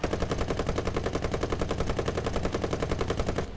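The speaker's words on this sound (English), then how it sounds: "someone's shooting you" Sustained automatic gunfire from the M-51 in War Thunder, a rapid, loud, evenly pulsed burst of shots running nearly continuously before cutting off abruptly at the end.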